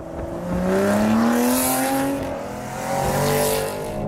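An Aston Martin GT12 V12 engine revs up and eases off, its pitch climbing in long sweeps with a rough, throaty roar, loud and close.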